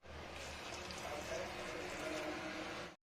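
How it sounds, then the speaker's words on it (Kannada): Water runs briefly and faintly into vegetables set to cook with salt in a pressure cooker, a soft steady stream for a few seconds. "ನೀರು ಸ್ವಲ್ಪ ಹಾಕ್ಕೊಂಡು ಬೇಯಿಸೋದಕ್ಕೆ"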